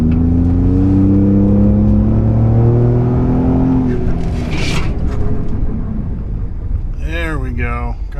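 A 2020 Ford Raptor with 500+ horsepower and Baer big brakes stops hard to lock its wheels. Steady engine drone fades into a brief rush, then short squeals near the end, with voices talking throughout.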